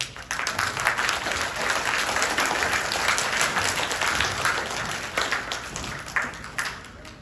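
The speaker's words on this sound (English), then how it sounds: "You can give him a round of applause." Audience applause for a student spelling award winner at an elementary school pinning ceremony, steady dense clapping from a crowd lasting throughout, fairly loud and sustained.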